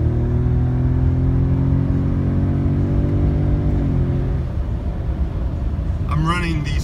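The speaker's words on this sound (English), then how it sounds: "I just like what it does when you punch it." A 2017 Ford Raptor with ported turbos and stock exhaust and intake pulls at full throttle, a loud rising engine drone for about four seconds that then fades into road and wind noise, with a brief voice near the end.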